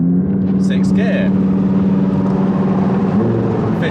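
An Audi R8 V10 Plus or McLaren 675LT engine drones loudly from inside the car as it downshifts, with a steady deep rumble and a brief rev blip, while people talk over it.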